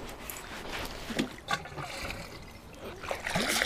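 Water trickling as plants are watered in a greenhouse, a faint, uneven dribble with soft little splashes and spatters.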